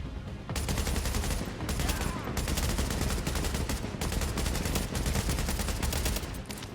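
Sustained rapid gunfire from the shooter video game The Division, dense continuous bursts with brief gaps, loud and close.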